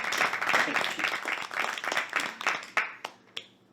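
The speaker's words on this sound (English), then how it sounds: "Round of applause." A small group applauds, fairly soft clapping that fades out into a few last isolated claps.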